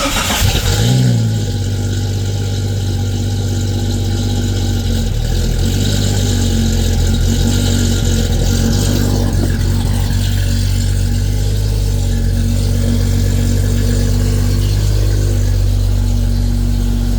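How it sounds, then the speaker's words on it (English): A 1996 Jeep Cherokee fitted with a Flowmaster muffler cranks and fires up, then settles into a steady, loud, deep idle running close by. The exhaust echoes off a nearby wall. "So I'm gonna go ahead and set this down and fire it up."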